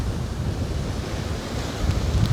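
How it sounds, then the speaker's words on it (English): Big sea waves break against the rocky shore at Runswick Bay, a continuous heavy roar of surf with wind buffeting the microphone and no talking. "Nice big sea running."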